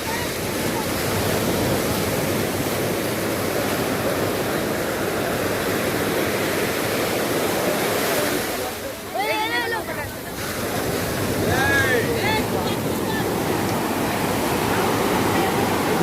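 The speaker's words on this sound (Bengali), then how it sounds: "নৌকাটা কীভাবে আসে দেখো ঢেউয়ের মধ্যে পরপর তিনটে নৌকো আসছে দেখো" Sea surf at Puri rolling onto the shore as fishing boats come in through the waves, a loud continuous roar of breaking water with wind buffeting, briefly dipping midway before surging again.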